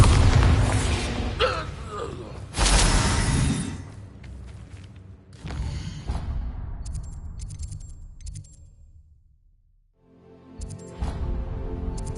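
A Bombarda spell blasts in the Hogwarts Legacy game: a heavy, loud boom near the start followed by a second burst, then rumbling debris and a decaying tail, with small ticking effects afterward.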